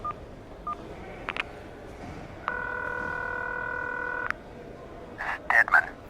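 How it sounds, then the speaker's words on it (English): Keypad tones from a flip phone being dialed by someone sitting on a creaking cot: a few short beeps, then one long steady tone, then a quick cluster of beeps, all clear and close with no talking. "flipped the phone open, and dialed a number"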